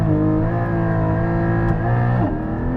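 Porsche Cayman GT4 engine revving hard through a launch start, a loud, close, rising engine note that climbs steadily, then briefly dips near the end as it shifts before pulling on.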